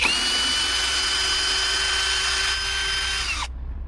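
A 20V cordless impact drill-driver, model 8905K, whines steadily at high speed while backing out screws, a loud, continuous motor drone lasting a few seconds before cutting off abruptly.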